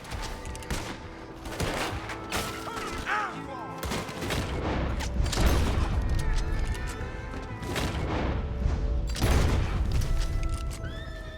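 Gunfire in the video game Red Dead Redemption 2, with loud shots and booms mixed with horses neighing and hooves clattering, over a busy, dense game soundscape.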